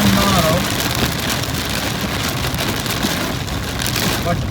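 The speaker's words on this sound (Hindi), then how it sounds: "बहुत ही ज़बरदस्त बारिश जो है। आई थिंक आपको साउंड भी आ रहा होगा" Heavy rain drums steadily on a Toyota Hyryder, a dense, continuous hiss and patter close around the cabin, with a faint voice briefly underneath.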